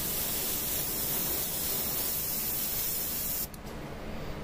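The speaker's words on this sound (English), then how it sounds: "hear the activation of the airbrush" Airbrush spraying paint on a Warhammer Adeptus Mechanicus Dune Crawler tabletop miniature, a steady close hiss of air and paint that cuts off near the end, leaving a softer background.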